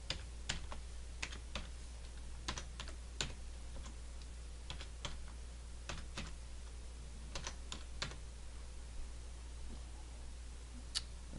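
Keys clicking on a computer keyboard as a password is typed, a steady run of close, crisp taps with brief pauses between bursts, alone over a faint low hum.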